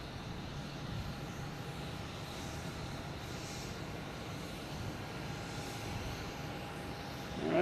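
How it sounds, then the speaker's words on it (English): A small Cape Air Cessna 402 twin-prop takes off at Boston Logan Airport, a steady broadband engine drone holding at moderate level throughout with a faint steady tone, swelling briefly at the very end. "There's a little Cape Air that's going to take off ahead of you guys."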